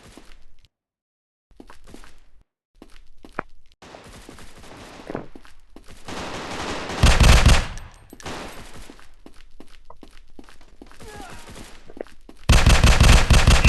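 Rapid bursts of gunfire ring out in the online shooter Online Strike, mixed with short single shots and brief gaps. Two loud sustained volleys come in the middle and at the end, with no talk over them.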